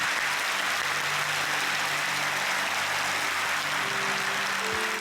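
A church congregation applauding an orchestra and a Korean traditional music team at an Easter service, dense sustained clapping from a large hall crowd, steady and even throughout.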